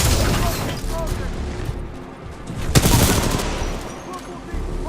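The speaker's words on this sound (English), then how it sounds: "this guy just shooting grenades at the ground forever" Repeated grenade explosions and gunfire from the video game Titanfall 2 as a character keeps firing grenades at the ground, a dense continuous barrage of booms with a louder burst near the middle.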